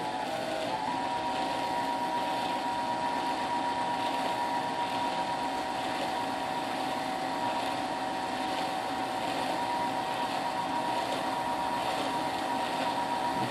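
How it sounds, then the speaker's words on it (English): A Husqvarna Viking Platinum Plus sewing machine winds a bobbin with a steady, continuous mechanical whir and a constant motor hum, holding an even pitch throughout with no pauses. "So we're almost near the end of the bobbin. And nearing the end of filling the bobbin."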